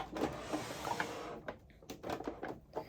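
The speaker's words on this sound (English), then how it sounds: "let's just go back to our sewing machine" A home sewing machine stitching knee-pad pieces for a doll's mechanic coveralls, with a busy mechanical whir and patter in the first second and a half, then short bursts of stitching broken by pauses.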